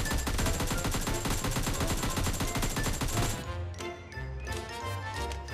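Rapid automatic gunfire rattles continuously for about three seconds in a knockoff PUBG-style shooter game, then stops abruptly, leaving quieter clinks and game noise.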